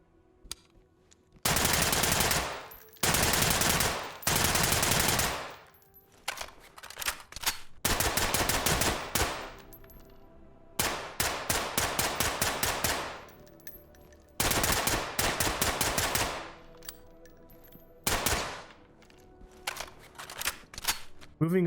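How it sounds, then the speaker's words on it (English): SIG MCX Virtus rifle fired in the tactical shooter Ready or Not: repeated loud, close full-auto bursts of a second or two each, separated by short pauses, with a few single shots in between. "this is another modification that was recommended to me, the SIG MCX Virtus, which replaces the SBR 300"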